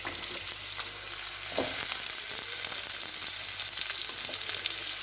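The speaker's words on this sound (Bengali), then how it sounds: "আমি রসুন কুচিগুলো আগে দিয়ে দেবো। হালকা ভাজা ভাজা হলে এবার পেঁয়াজগুলো দেবো এর মধ্যে।" Chopped garlic fries in hot oil, giving a continuous soft sizzle that grows a little louder after a brief scrape, steady throughout with occasional small pops.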